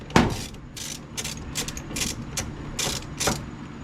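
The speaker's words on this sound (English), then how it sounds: "Now I need to put my jack back under this thing since the bolts are getting loose." A car jack is set under a 1982 Dodge Ram Charger and worked, giving a series of close metallic ratcheting clicks and clanks in irregular bursts over a steady background.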